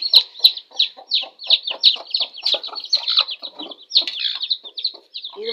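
A neighbour's hen and her few newly hatched chicks, one a black Kadaknath, make rapid, bright peeping chirps close by with low clucks mixed in, a busy continuous chatter.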